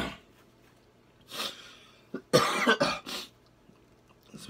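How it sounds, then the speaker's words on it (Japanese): Quiet coughing from a person with a throat cold: a soft cough, then a cluster of harsher coughs close to the mic, with faint background sound. "急にちょっと咳ができたな"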